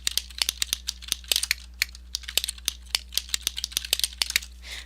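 Rapid, irregular clacks of a mechanical keyboard being typed on up close, crisp thocky keystrokes in quick bursts with a low steady hum underneath.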